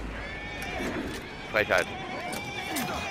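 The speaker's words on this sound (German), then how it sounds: "Die Pferde, die werden auch richtig irre hier." Horses neigh in the Assassin's Creed Syndicate video game, with a short pair of loud whinnies midway over a busy game backdrop and faint hoof clatter, while someone speaks briefly.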